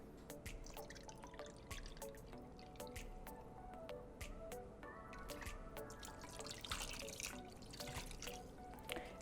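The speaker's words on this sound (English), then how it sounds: "And then I add 1 cup of water." A cup of water is poured into a pot of Filipino adobo meat, giving a faint, steady splashing and dripping trickle with small bubbling pops, heard close without any talking.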